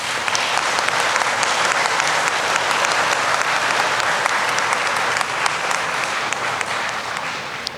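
A large convocation audience at the Illinois Mathematics and Science Academy gives a round of applause for faculty and staff, a dense, steady wash of many hands clapping at full strength for the whole stretch.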